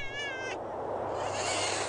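A small square cat in the video game Thirty Flights of Loving gives a short, high meow, then soft hissing ambience follows with no talking.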